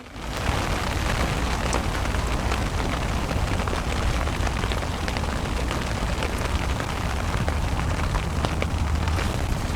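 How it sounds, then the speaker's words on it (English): Dense, steady rain patters on a nearby surface at Loch Lomond, a continuous hiss dotted with sharper drops, with no voices. "But the rain has been on and off."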